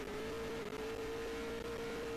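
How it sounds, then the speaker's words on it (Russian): A buggy's engine revs in a cartoon racing video game on an arena track, a steady, buzzing synthetic drone held without change throughout, with no talk. "Не-не-не, сколько я не газую,"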